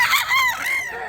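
A short crow rings out from a white three-year-old rooster at a Mantalungon, Cebu market, near and clear, a single wavering call that fades within about a second.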